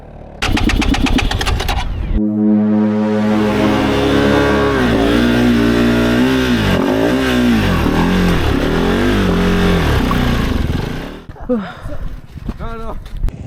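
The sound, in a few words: motorcycle engine revving, stuck in salt lake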